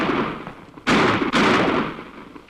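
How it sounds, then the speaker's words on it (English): Two sharp, loud bangs from ammunition going off inside a stove, cracking out like gunfire about half a second apart, each with a lingering rumbling tail over a low background. "How much of your ammunition did you put in the stove?"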